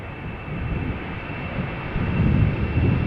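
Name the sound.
KLM Embraer 190 jet departing Amsterdam Schiphol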